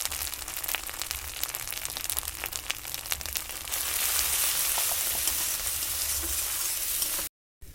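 Steady crackling sizzle of food frying in a pan, growing louder and denser halfway through, with light stirring clicks early on.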